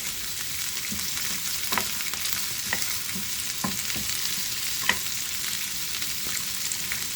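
Onions fry in a pan for chicken jalfrezi, giving a steady close sizzle with a few soft stirring knocks scattered through it.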